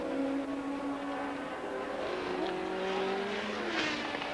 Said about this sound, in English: John Watson has driven past and underneath our commentary position, and there is the confirmation of it with a very lumpy sounding engine.